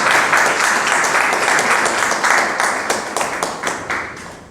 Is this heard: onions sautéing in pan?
no